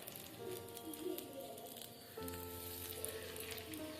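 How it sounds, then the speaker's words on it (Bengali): Kakra pitha, crab-shaped rice cakes, sizzle in hot oil, a steady crackling fry that grows denser and louder halfway through, with a faint hum alongside. "এই যে কাঁকড়া পিঠে এখন ভাজা হবে"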